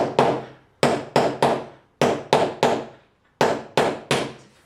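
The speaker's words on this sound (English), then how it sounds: "So I've just got a bottle top, I've got a hammer," A hammer taps a metal beer bottle top flat in sharp, loud strikes, some close together in pairs and triples, with brief pauses between groups and each hit ringing out quickly.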